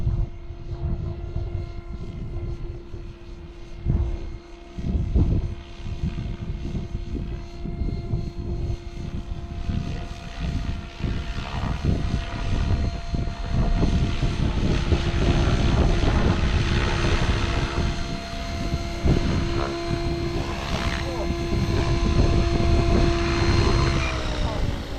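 An RC model aircraft on a windy day comes in to land, its engine or propeller droning and shifting in pitch at moderate distance over gusting wind, with occasional voices nearby.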